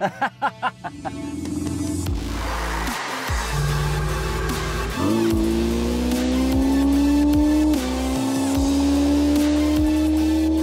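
A Ferrari sports car engine revs hard and climbs in pitch, with loud sustained roaring and a brief dip before it surges again, close and powerful.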